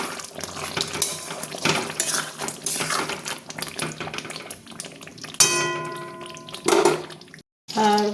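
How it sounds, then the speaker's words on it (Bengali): Chicken stirred in a pan after garam masala powder is sprinkled on, heard as clattering utensil scrapes against cookware with a watery sizzle, ending in a sharp ringing clank and a brief silence, close and fairly loud. "এবার আমি এর ওপর গরম মশলার গুঁড়ো দিচ্ছি, দিয়ে এবার নেড়ে দেব।"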